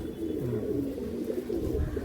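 Pigeons at a loft in Behala coo softly and steadily throughout, a low murmuring chorus of several birds close by with no talk over it.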